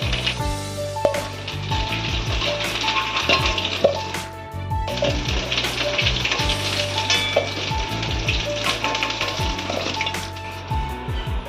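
Potatoes frying in hot oil, for a crab and potato curry, give a loud, steady sizzle with bursts of crackle and repeated metal scrapes and clinks of a spatula stirring in the pan.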